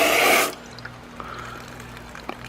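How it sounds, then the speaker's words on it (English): Water gushes off a freshly ceramic-waxed truck in a short, loud sheeting pour that stops abruptly, leaving a few faint scattered drips over quiet outdoor background. "It just pours off the entire truck like that."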